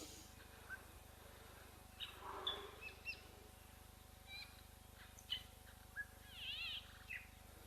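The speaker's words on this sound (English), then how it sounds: "Can hear the greater blue-eared starlings also calling in the background." Greater blue-eared starlings calling in the background of an African outdoor wildlife camera, with faint, scattered chirps and short whistles over a low steady hum.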